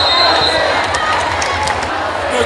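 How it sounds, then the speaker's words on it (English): Crowd cheering and chatter fill an AAU basketball gym, a steady noisy roar with voices mixed in throughout. "The crowd is speaking."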